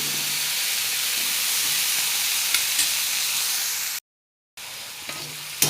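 Garlic and fenugreek leaves sizzle steadily in a pan over low heat, a dense continuous hiss broken by a brief silence near the end before the frying resumes.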